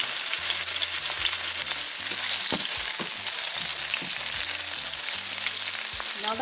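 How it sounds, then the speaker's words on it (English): Garlic, onions and green onions fry in three tablespoons of coconut oil, giving a steady, loud, dense sizzle throughout with occasional stirring scrapes and no talking. "I'm adding my garlic, onions, and green onions."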